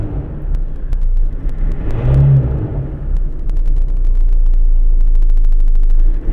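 Ford Ranger 3.0 diesel, which blows black smoke and is hard to start, revving steadily at close range with a deep continuous rumble that swells and holds high, no talk over it.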